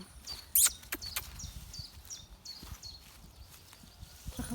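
Horses, including a powerful stallion, stepping about on a farm in spring, with scattered hoof clops and soft rustling, near and moderately loud, while birds chirp faintly in the background.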